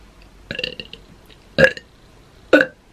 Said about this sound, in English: There won't be a video where I don't burp.